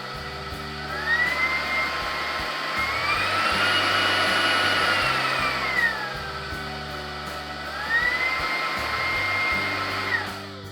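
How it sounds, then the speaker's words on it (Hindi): An AGARO cordless vacuum cleaner with three suction modes runs loud and close, its high motor whine climbing and dropping in pitch as the power level changes, then surging again. "वैक्यूम क्लीनर पर एक बटन दिया गया है जिससे आप 3 सक्शन मोड्स में से एक सक्शन मोड सिलेक्ट कर सकते हैं।"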